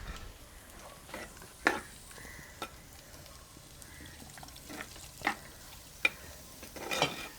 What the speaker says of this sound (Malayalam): ഇളക്കട്ടെ?